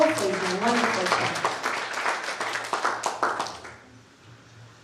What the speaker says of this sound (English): a round of applause for Mr. Kobo for his wonderful job.